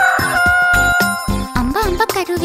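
A voice imitates a rooster crowing in a children's rhyme, with loud, close, rhythmic rising and falling syllables delivered in quick succession.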